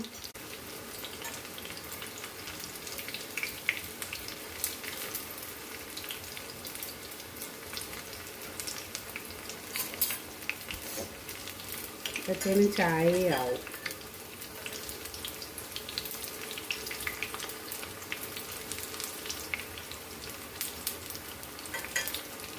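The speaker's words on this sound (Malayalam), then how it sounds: "നമുക്ക് എണ്ണ ചൂടാക്കിക്കൊണ്ട് ഉള്ളിവടയെടുത്ത് ഇടാം" Onion vada fritters fry in hot oil with a steady, soft sizzle and hiss running throughout, while a short spoken remark cuts in near the middle.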